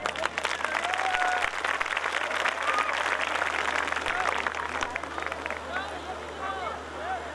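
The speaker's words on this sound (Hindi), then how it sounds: "तो इसलिए तालियां दिल खोलकर बजानी चाहिए।" An audience claps in a dense, sustained round of applause, loud at first and easing toward the end, with a murmur of crowd voices and faint whistles mixed in.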